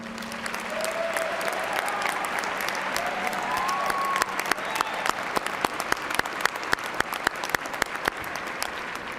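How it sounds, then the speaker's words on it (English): A large audience at a university commencement ceremony claps in a full, continuous round of applause, a broad wash of hands with individual claps standing out more sharply toward the end. "generous round of applause"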